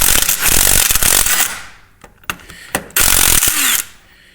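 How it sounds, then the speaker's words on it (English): A 19mm impact wrench works on the bottom nut of a rally coilover, giving loud, close bursts of rattling hammering with brief clanks and pauses between them. "you will have to take a 19mm impact to remove this nut"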